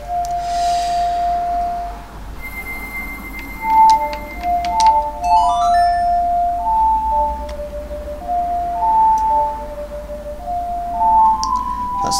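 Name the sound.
Melody played on ocarina, Ocarina of Time video game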